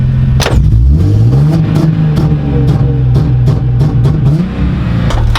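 A Nissan 350Z engine revving, loud and close: the exhaust note climbs, holds at a steady high idle with rattling pulses, then dips and rises again. No voices.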